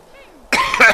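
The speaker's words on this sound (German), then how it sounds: "Mann, scheiß Husten." One sharp, close cough bursts out after a brief stretch of faint tones, a loud harsh throaty hack with a second push at its end.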